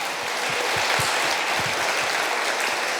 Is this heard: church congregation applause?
yes